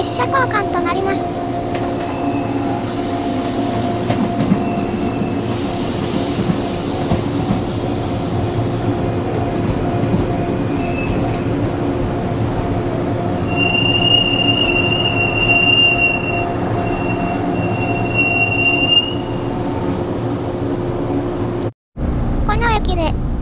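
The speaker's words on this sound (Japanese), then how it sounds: "八代町です。 列車交換となります。" A Hojo Railway train sits at Yashiromachi station during a passing stop, with a steady, loud rumble, some metallic wheel squeals and a voice announcing over the noise.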